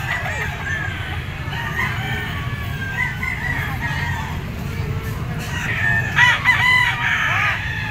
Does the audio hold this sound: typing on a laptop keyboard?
no